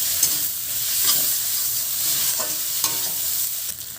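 Spices and fried potatoes frying in a pan for a village-style fish curry, a continuous close sizzle with occasional soft spatula scrapes.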